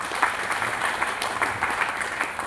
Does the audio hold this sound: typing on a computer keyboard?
no